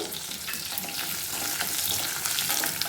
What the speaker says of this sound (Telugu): వేగుతూ ఉండయి చూడండి ఇట్లా నూగులు ఇట్లా బాగా వేగాలన్నమాట